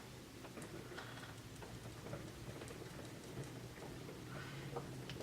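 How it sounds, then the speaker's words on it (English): Rain falls outside as a faint, steady hiss with soft scattered drop patter, continuous throughout and with no talking. "Oh, it's starting to rain now."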